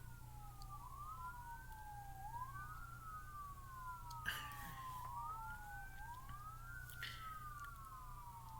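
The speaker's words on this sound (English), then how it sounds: "If you hear sirens, yeah, like fire trucks or police, it sounds like fire trucks are coming along" Two overlapping fire truck and police sirens wail up and down in steady sweeps, faint and far off, with a low constant rumble of traffic underneath.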